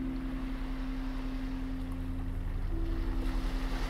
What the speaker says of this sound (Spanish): Tu capacidad auditiva queda profundamente maravillada por esa primigenia información de las olas.